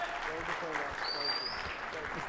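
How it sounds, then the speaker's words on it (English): An audience at a mortgage-business technology event applauds, with continuous clapping at moderate level while a voice talks over it. "Round of applause again."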